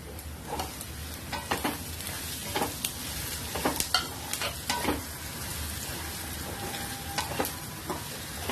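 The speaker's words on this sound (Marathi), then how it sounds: "कैरी कापून ठेव कापून ठेवलेली ती टाकून घेऊया" Chopped raw mango fries in a pan for a spicy-sour vegetable dish, with a continuous sizzle and irregular scrapes of stirring throughout, and no talking.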